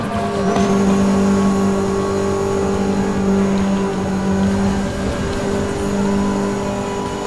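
Car engine in the racing game Need for Speed Most Wanted, a steady loud droning hum with sustained tonal bands, holding at speed as the car pulls away, with no talk over it.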